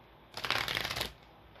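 A short burst of oracle cards being shuffled, a quick riffling flutter lasting under a second against a quiet background.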